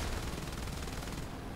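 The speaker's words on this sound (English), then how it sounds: "using the machine gun to start off with" Rapid, continuous machine gun fire from a Bf 109 E-7 fighter in War Thunder aerial combat, loud and dense bursts running without pause and thinning slightly near the end.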